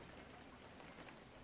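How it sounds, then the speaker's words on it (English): Steady, dense rain patter striking concrete, an even hiss of countless drops at moderate distance with no voices or other sounds over it. "the rhythmic patter of the raindrops"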